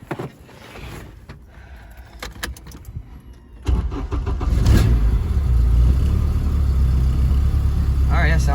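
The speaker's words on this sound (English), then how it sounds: "Let me see how this exhaust sounds real fast." A Honda del Sol with a swapped K24 engine and new exhaust starts up and settles into a loud, steady idle with low rumble, after some quieter clicks and movement near the car.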